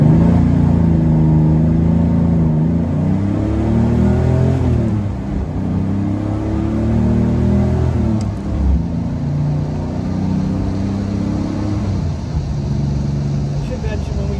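A Chevrolet Corvair's engine revs hard at full throttle and climbs through several gears, rising in pitch, dropping at each shift, then rising again, loud and close throughout.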